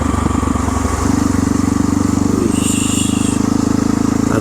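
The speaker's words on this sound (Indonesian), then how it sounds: "Ada motor dulu." A motorcycle engine drones loud and close on a tea-plantation hill road in Rancabolang, Ciwidey, with a steady, rough idle-like pulse that rises slightly as it passes.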